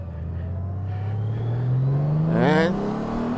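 A Honda Goldwing motorcycle pulls away from a stop into a U-turn, its engine note climbing steadily in a smooth, close rev with faint whirring.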